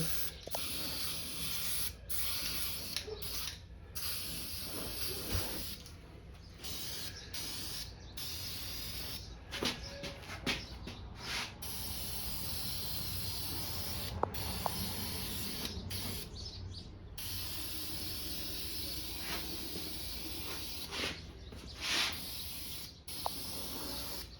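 Spray paint hisses from an aerosol can onto engine parts for a Mopar 4.7 HO rebuild, in repeated bursts of several seconds with short pauses between them, close and fairly quiet.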